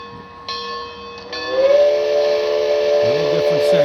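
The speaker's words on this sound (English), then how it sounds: "Let's hear the whistle." Steam whistle of an HO scale 2-6-6-2 Mallet model locomotive: a sustained multi-tone whistle swelling in, held steady and loud for several seconds, with mechanical hiss and chuffing beneath toward the end.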